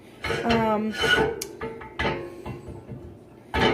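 A Pampered Chef Rock Crock stoneware dish is handled in a home kitchen, with a few hard clunks and knocks against the counter heard under a woman's speech.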